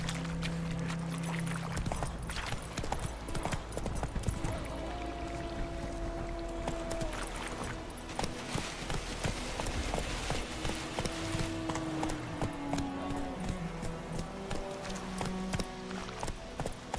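Roach, the horse in The Witcher 3, gallops in a quick, steady clip-clop of hooves that runs without pause, with faint game ambience beneath and no voices.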